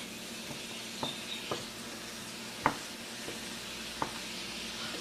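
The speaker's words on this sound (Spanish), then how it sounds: "Con mucho cuidado, abrimos el bote de margarina y con una cucharadita la llenamos y la echamos a la sartén. A partir de aquí empezamos a sofreír." Margarine sautés in a frying pan with a steady, soft sizzling hiss, broken by a few sharp clicks and taps of a spoon against the pan. It is close and moderately loud, with no speech.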